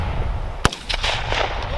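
A single sharp rifle shot cracks close by during an army live-fire assault exercise in the field, followed by fainter distant pops and a shout-like voice in the background.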